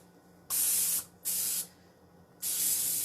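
Cooking spray hisses onto ramekins in three bursts: two short close sprays, a pause, then a longer final one.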